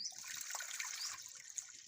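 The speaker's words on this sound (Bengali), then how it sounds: "দুধ দিয়ে দেবো," Boiled and cooled milk is poured over washed rice in a bowl for Bengali rice pudding (payesh), a soft brief trickling splash close by.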